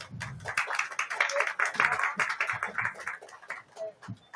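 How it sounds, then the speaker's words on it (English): Audience applause for five panelists walking on stage at a pavilion event during the COP16 biodiversity conference, a steady wash of many hands clapping across the whole stretch, with a few voices and chatter mixed in. "please, a big round of applause"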